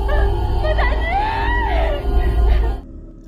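A woman in a horror film screams and wails hysterically after finding an elderly grandmother dead, a loud drawn-out cry over a heavy low rumble, cutting off abruptly near the end.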